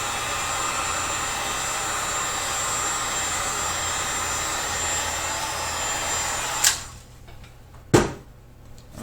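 A heat gun warming PVC to shape a Ka-Bar style fighting knife blows a loud, steady roaring whoosh for about seven seconds, then cuts off, followed by a single sharp knock and quieter rustling.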